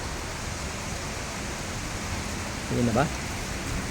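Heavy rain pours steadily in Rizal, a dense even hiss close around, with a brief voice speaking near the end.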